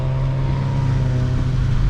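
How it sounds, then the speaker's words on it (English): Six-cylinder car engine humming steadily from inside the cabin during a night drive, a constant low drone with a firm tonal hum and no voices. "You can tell by the sound."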